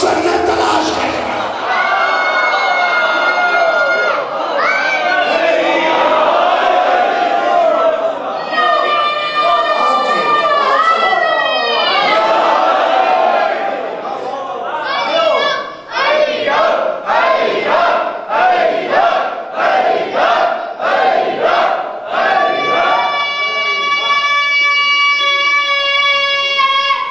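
A large crowd at a Ramzan majlis in an imambargah chants a religious slogan in loud, continuous unison, with rhythmic repeated bursts of shouting that carry on throughout.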